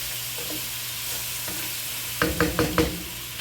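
Roasted garlic tomato base going into a simmering stew of yam with sherry, white and red wine: a low steady hum, then four quick, fairly loud stirring and scraping bursts in a row near the end.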